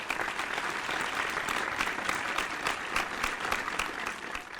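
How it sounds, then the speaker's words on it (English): Studio audience applause at an awards ceremony, a steady, dense patter of many hands clapping throughout, moderately loud with no voices over it. "The live studio audience, they clap in the same way every time."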